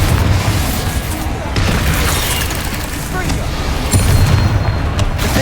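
Booming blasts from the explosive spells Confringo and Bombarda in Hogwarts Legacy roll over a dense, loud battle din of rumbles and bursts, with no clear pauses.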